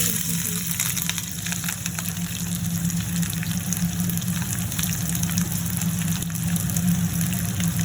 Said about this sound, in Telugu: గోల్డెన్ ఫ్రై వచ్చిన వరకు బాగా కలుపుకోవాలి.